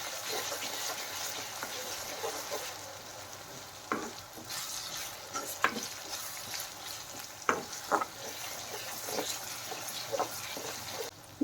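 Sautéed onion with freshly added ginger-garlic paste fries in a pan for bitter gourd puttu, making a continuous sizzle broken by occasional spatula knocks and scrapes, a few sharper clacks toward the end.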